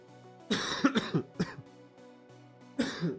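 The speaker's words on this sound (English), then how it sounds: "I just got a really bad cough and cold." A man with a bad cold coughs close to the mic, a quick cluster of harsh chesty coughs followed by a throat clear, then a pause and one more rough cough.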